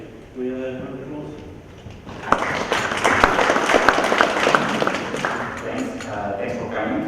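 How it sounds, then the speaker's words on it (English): An audience at a November 2011 computer graphics expo session applauds: after a brief spoken introduction, a burst of clapping rises and carries on steadily for several seconds, with a voice heard over the start. "We have a round of applause."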